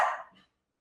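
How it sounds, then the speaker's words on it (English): A single short dog bark rings out close by indoors and fades quickly into silence. "Sorry, my dogs are barking."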